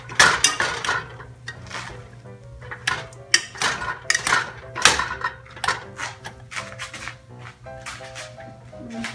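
Potatoes being smashed in a dish for a mashed potato crust, a series of sharp clinks and knocks of a utensil against the dish in irregular bursts, with a low steady hum underneath.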